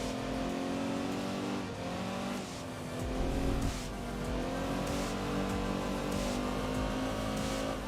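A supercharged V8 in Enthusia Professional Racing revs and accelerates out of a tight right-hand hairpin, its engine tone climbing steadily, loud and close, with light tire noise.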